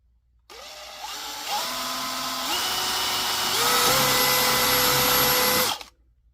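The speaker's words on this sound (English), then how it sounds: "so we can drill into the plastic and the metal" A power drill spins up and bores steadily for about five seconds through plastic and metal of a freezer door shelf, its whine climbing in pitch as it bites, then stops.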